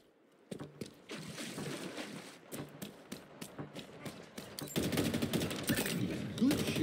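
Rapid weapon fire crackles through a Halo Infinite match, a steady run of sharp shots that grows louder and denser toward the end over game ambience.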